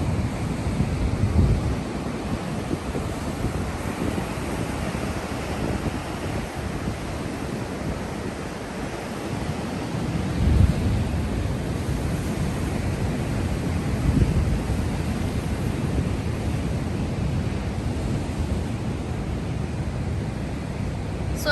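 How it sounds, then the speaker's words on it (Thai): Rough winter sea surf pounding the Australian coast, a continuous heavy roar of breaking waves with gusting wind buffeting the microphone and periodic louder surges. "ทะเลขึ้นแรงๆ หน้าหนาวเนาะ"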